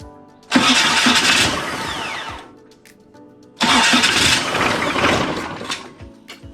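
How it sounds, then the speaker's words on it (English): A Kubota V2403 diesel fitted in a 2006 Jeep Wrangler TJ revs twice, each rev a loud, close surge that rises sharply then winds back down toward a low idle, with no speech over it. "rev it a couple of times, make sure the throttle spring doesn't pop off"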